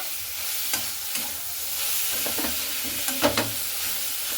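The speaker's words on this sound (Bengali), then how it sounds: "আর এখানে দেখুন খুব ভালো করে কিন্তু আমি সয়াবিনটা কষে নিচ্ছি" Soya chunks are stir-fried with spices in a pan, a steady close sizzle punctuated by several scraping strokes of a spatula.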